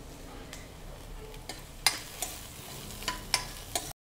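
Vegetables fry in a pan with a continuous soft sizzle while a utensil scrapes and stirs them, making several distinct clinks and scrapes toward the end.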